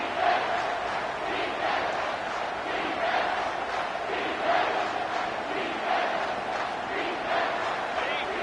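A home crowd at a football game roars on a defensive third down, a dense, steady wall of cheering and yelling that holds at full volume throughout.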